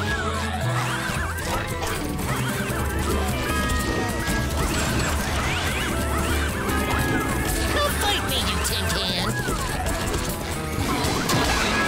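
Karate strikes smash wood in the video game Bikini Bottom Tales 2.0a, a dense run of cracking, thwacking impacts mixed with game sound effects and a voice talking throughout.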